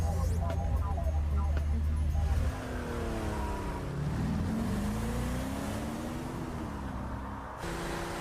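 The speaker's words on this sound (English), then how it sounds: "she was speeding away from the castle in her car" A sports car speeds away from a castle, its engine rising in pitch through the gears and then holding a steady, close roar that fades slightly toward the end.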